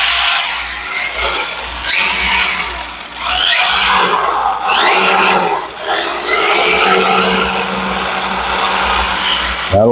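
A small RC car wheel spins up under power, giving a continuous whirring motor drone with surges and brief dips as it is triggered repeatedly, loud and close, with no talking.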